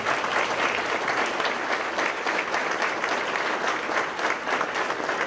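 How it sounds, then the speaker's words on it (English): Audience applause for veterans at a Collinsville hometown heroes event, steady dense clapping from a sizeable crowd sustained at even volume throughout. "I think they deserve a great round of applause."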